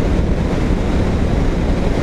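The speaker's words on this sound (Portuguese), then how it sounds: "tá ventando demais" Strong wind buffets a microphone outdoors on a ride in cruiser mode: a loud, steady roar with heavy low rumble that never lets up, and no voices.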